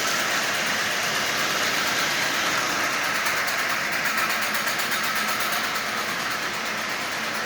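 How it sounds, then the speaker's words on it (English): A Marx 1666 toy locomotive with slope back tender runs on track, its motor whirring steadily with a rapid, continuous clacker ticking layered on top, close and fairly loud. "But you can definitely hear that clacker."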